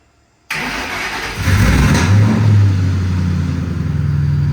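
A drift car's engine, fed by a jump box, cranks after a short silence and catches, rising into a loud, close, steady rumble that settles into a rough idle.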